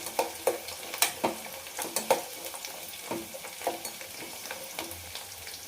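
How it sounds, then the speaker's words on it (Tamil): Garlic frying in oil with mustard seeds and cumin for an okra pachadi, a gentle background sizzle punctuated by rhythmic spoon scrapes and taps against the pan. "பூண்டு கொஞ்சம் வதங்கட்டுங்க."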